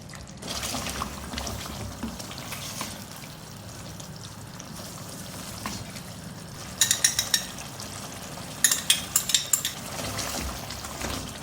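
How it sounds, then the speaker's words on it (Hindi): Mutton with yogurt cooks in a karahi, a low bubbling fry with wet, liquid sounds, then a couple of bursts of sharp metallic clinks and scrapes from stirring utensils, with no voices. "4 टेबल स्पून दही डालूँगी और फिर इसको भुनाई करूँगी।"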